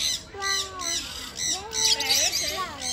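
Many parrots squawk at a pygmy zoo animal park in Ajman, UAE, harsh repeated calls overlapping close by, with adults and someone talking among them.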